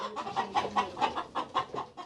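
Chickens on a poultry farm cluck in a quick, repeated series of close clucks and short calls, with no talk over them.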